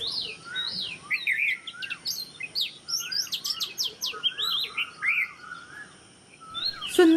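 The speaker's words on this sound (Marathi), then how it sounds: "हा शिपाई बुलबुल तसा आगावच." A red-whiskered bulbul calls near a window, a series of bright, liquid chirps and short warbled phrases in quick bursts, fairly close and clear over a quiet background.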